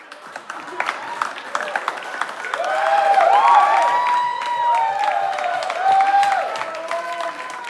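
Comedy club audience at a stand-up show breaks into applause and cheering, building from scattered claps into a loud, sustained wash of clapping and whoops while a voice talks over it.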